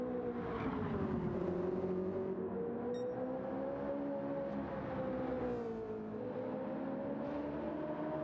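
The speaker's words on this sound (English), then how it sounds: "So enjoy the screaming sounds of these engines." Race car engines in Gran Turismo 7 on PS5 Pro scream steadily at high revs, a loud continuous whine that rises and falls slightly in pitch throughout.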